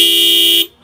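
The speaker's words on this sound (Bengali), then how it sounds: "ডেনসোটা সবচেয়ে বেস্ট হর্ন এটা।" A Denso Indonesian horn fitted to a Suzuki Gixxer motorcycle gives one loud, steady, high-pitched honk that lasts just over half a second and then cuts off sharply.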